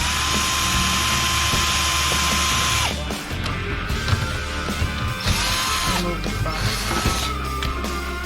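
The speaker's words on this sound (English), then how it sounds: "take our T25, I believe it is, and just remove the screws" A power driver whirs in short bursts while backing out T25 screws from the headlight of a Harley-Davidson Road Glide, a high whine that stops and restarts several times with clicks and handling noises, close by.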